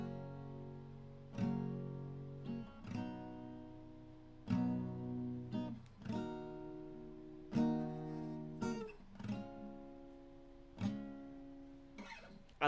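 An acoustic guitar strums Zach Bryan's 'Ticking' in a two-downs-and-an-up pattern, chords ringing out in a relaxed repeating rhythm, close and fairly quiet, with no talking.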